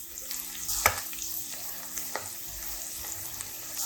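Ginger garlic paste, cumin powder and turmeric are stirred and fried in a pan for a raw mango prawn curry, a soft continuous sizzle with one sharp utensil knock and light scraping throughout.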